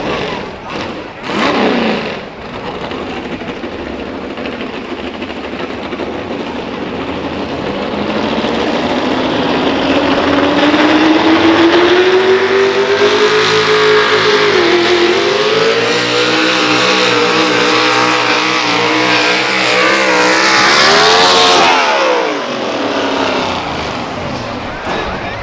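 A pulling truck at a truck pull event in Berryville roars at full throttle while dragging a weight sled, engine pitch climbing steadily and loud, then cutting off near the end.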